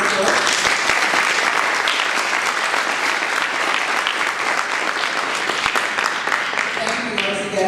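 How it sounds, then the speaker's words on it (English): Loud, dense applause from a conference audience thanking a hydrogen panel in Europe. The clapping is sustained and even from start to finish, with occasional sharper claps standing out. "A round of applause."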